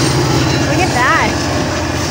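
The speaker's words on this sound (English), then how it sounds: "Look, the train's coming." A train passes near a backyard in San Clemente, a loud, continuous rumble with rhythmic wheel clatter and a brief squealing tone, with people talking over it.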